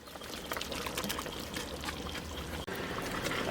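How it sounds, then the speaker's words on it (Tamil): Oil-fried brinjal goes into a simmering kara kuzhambu gravy with a soft, close pouring and trickling sound, faint and brief. "எண்ணெயில் பொரிச்ச கத்திரிக்காயை சேர்த்துருவோம்."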